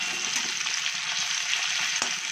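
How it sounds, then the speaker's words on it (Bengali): Potato strips fry in a pan until reddish, a steady close sizzling hiss with one brief knock toward the end and no talking. "একটু লালচে করে আলুটা ভেজে নিতে হবে"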